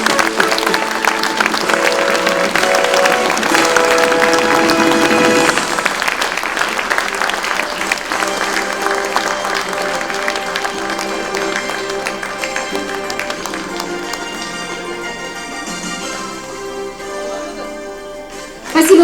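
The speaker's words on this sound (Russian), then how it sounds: "Еще раз аплодисменты, дорогие друзья." An audience claps loudly and steadily at an anniversary concert for a folk culture centre, the applause mixed with music and slowly thinning toward the end.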